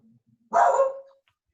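A single dog bark rings out after a quiet moment at an open mic gathering, fairly close and loud, then fades with no talk around it.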